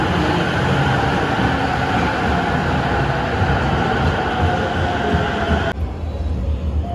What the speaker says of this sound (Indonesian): ini suasana stasiun Tokyo, stasiun bawah tanah